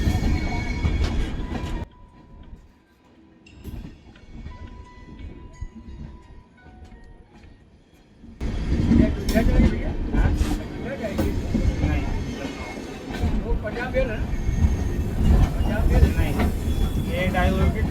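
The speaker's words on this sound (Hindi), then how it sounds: "ये डाइवर्टेड ट्रेन, डाइवर्टेड वाला है।" The diverted Dwarka Express passenger train (Guwahati–Okha) runs through Pratapgarh Junction without stopping. Loud rail rumble and clattering wheels fade to a quieter lull, then the clatter swells again and continues.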